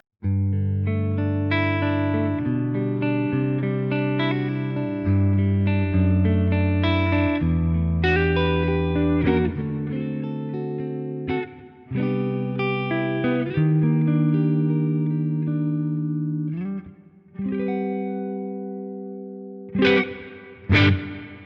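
A clean electric guitar, likely a Tokai Les Paul-style model on its neck pickup, with a warm, round tone plays a melodic passage of chords and single notes, steady and fairly loud, with short gaps near the end.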